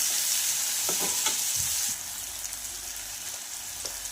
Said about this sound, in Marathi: तर टोमॅटो छान आपण फ्राय करून घेऊया